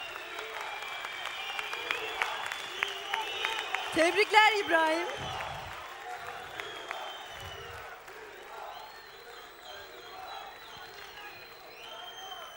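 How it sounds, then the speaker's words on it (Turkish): A singing-contest audience keeps clapping loudly, with brief cheers and whoops rising midway, then the applause thins and fades while someone speaks over it. "Alkışlar İbrahim için"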